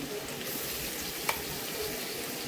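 Crushed green chili, garlic and ginger are fried in a pan with oil for vegetable pulao. A steady, soft sizzle continues throughout with one small clink partway through, and no talking.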